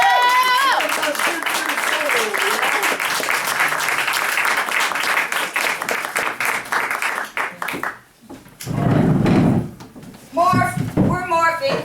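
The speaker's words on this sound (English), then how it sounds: "big applause for Vito joining me" A live audience applauds for a performer joining the stage. The applause is dense and sustained, and voices mix in. It fades out near the end, and more talking follows.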